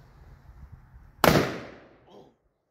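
A single loud Rossi S12 revolver shot fired two-handed at an outdoor range, a sharp close blast with a decaying tail over faint background noise.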